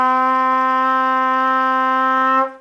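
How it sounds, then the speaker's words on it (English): A trumpet sounds a single sustained D, a steady, bright tone held for about two and a half seconds before stopping cleanly, played alone with no talking. "So here's what the first note should sound like, the D."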